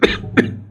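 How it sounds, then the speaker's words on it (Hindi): Two sharp coughs from a man, close to the microphone, about a third of a second apart, with nothing else heard. "खांसी चल गई"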